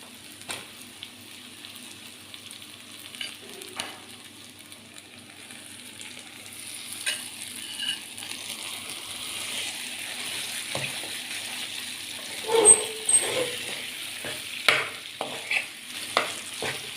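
Leftover lunchtime khichdi fries in a Kathiyawadi-style spice tempering, stirred with a steady scraping and a soft sizzle that keeps going, with louder stirring clatters near the end.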